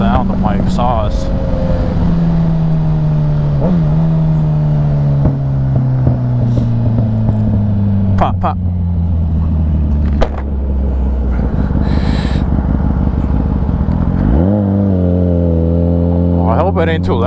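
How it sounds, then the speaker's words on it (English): A Kawasaki ZX-10R motorcycle's exhaust drones steadily while riding on the road, its pitch sliding down as it slows and rising again near the end, with wind buffeting the mic and someone talking over it. "Man, I love the sound of my exhaust."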